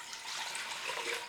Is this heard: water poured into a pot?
yes